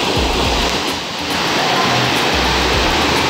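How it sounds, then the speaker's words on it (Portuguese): Waterfall pouring inside a cave at Pedra Caída in Chapada das Mesas, a steady loud rush of falling water filling the space with constant roar and low rumble. "A gente tá adentrando a cachoeira da caverna."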